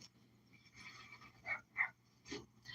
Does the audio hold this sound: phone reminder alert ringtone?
no